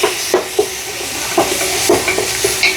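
A spoon stirring chilli powder and turmeric into a sizzling pan for chicken korma, with rhythmic scraping knocks about every half second over a steady frying hiss.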